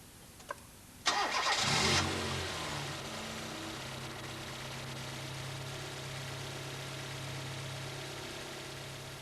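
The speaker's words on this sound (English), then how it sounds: "and then crank or start the engine." A car engine cranks briefly, then catches and settles into a steady low idle that runs on, close and clear, with a couple of small clicks beforehand.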